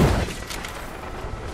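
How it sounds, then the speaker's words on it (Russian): Gunfire from the video game Fortnite, a short burst of loud shots at the very start, followed by a decaying rumble with no talking. "Выстрел."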